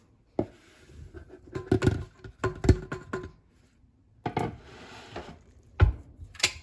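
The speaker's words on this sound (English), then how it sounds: "Add about half of the dry ingredients to the wet ingredients and give it a good mix." Cookie dough for keto tahini chocolate chip cookies being mixed by hand in a bowl, with scattered knocks, scrapes and taps of a utensil against the bowl in uneven bursts, close and fairly quiet with no talking.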